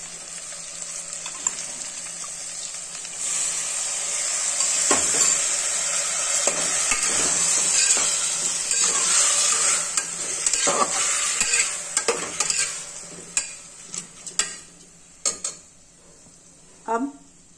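Masala for mutton keema fries in a pan under a steady sizzle while a spoon stirs and knocks against the metal, the scraping growing busier midway and ending in a few scattered taps.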